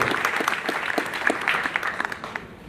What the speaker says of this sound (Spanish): para que den un aplauso